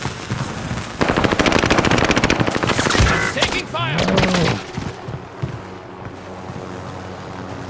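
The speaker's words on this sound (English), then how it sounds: "He's shooting at me." Machine gun fire in the Call of Duty: Modern Warfare video game rattles in loud, rapid sustained bursts up close, fading into softer distant shots and ambience.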